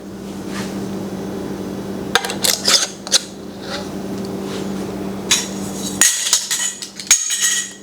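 Metal canning jar bands finger-tightened onto jars of peppers, giving close scraping, clinking metal-on-glass sounds in irregular bursts over a steady background hum.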